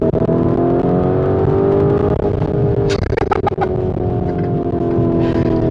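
A Lamborghini Urus engine revs loudly and close up, a dense sustained roar with a few sharp blips and crackles in the middle before settling back to a steady drone.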